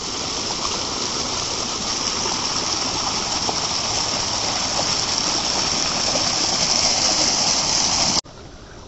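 River water rushes and gushes steadily, a dense, close, unbroken flow that cuts off abruptly near the end.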